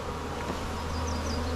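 Honey bees buzz steadily at an open beehive in a sunny Alaska garden in summer, a close, continuous droning hum with a few higher whining passes from individual bees, and no talking.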